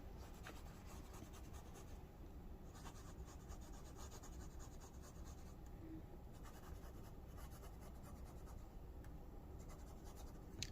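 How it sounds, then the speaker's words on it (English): A fountain pen with a medium nib scratches across thin onion skin paper, a faint continuous dry scratching with small strokes and pauses, close and quiet. "I love the way it writes on the onion skin paper."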